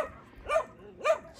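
Dogs at an animal shelter give two short, close whimpering yelps about half a second apart, each rising and falling in pitch.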